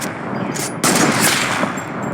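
Sniper rifle fire in a building-focused shooter video game: sharp, loud gunshot bursts close up, the second blast ringing out longer, with no talking.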